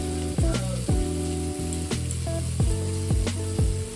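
Boiled egg tarka poured into hot oil with fried spices, a steady close sizzle and bubbling frying sound with repeated clanks of a ladle stirring against the pan.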